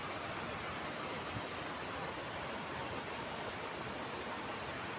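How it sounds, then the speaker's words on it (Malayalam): Water rushes out from the base of a dam, the outlet on one side of Neyyar Dam in Kerala used to release overflow, making a steady, dense roar that holds constant and loud throughout with no voices. "ഇത് ഡാമിൻ്റെ അടിഭാഗത്ത് നിന്നാണ് ഈ വെള്ളം വരുന്നത്"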